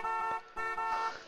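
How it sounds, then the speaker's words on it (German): A car alarm in the video game Arma 3 blares as a steady, loud electronic horn-like tone with slight pulsing, close and continuous. "Die Alarmanlage fährt."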